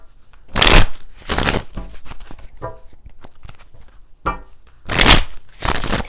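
Tarot cards being shuffled by hand, several loud crisp riffling bursts close to the listener, separated by quieter handling and tapping of the deck.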